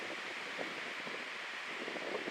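Steady, broad rushing wind with a soft rustle of leaves, constant and fairly loud throughout, no voices.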